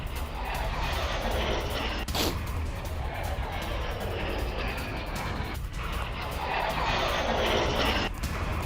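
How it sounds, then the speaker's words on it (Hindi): A low-flying Ukrainian missile roars past during an attack on Russia, a loud sustained engine-like rush with sweeping pitch changes and two sharp cuts between shots. A voice murmurs faintly underneath. "रूस पर यूक्रेन के मिसाइल हमले का हैरान करने वाला वीडियो आया"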